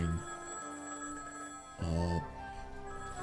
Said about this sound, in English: the sound of that telephone ringing drowned out my apologies